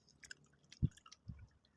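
Sea grapes (lato) chewed close to the mic, a couple of soft wet squishy bites in a quiet outdoor setting by the sea.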